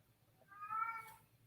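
A cat gives a single short meow, close but quiet, rising and falling over under a second against a faint low hum, with no talking.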